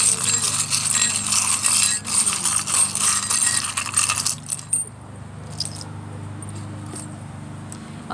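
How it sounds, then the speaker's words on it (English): Small divination charms rattle and clatter as they are shaken for several seconds, then a few light clicks follow as they are pulled out, close and fairly loud. "Let's pull some charms."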